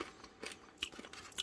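Several quick, crisp bites crunch into a Japanese snack from a Sakura lucky bag, with sharp, close crackles spaced irregularly over a quiet background.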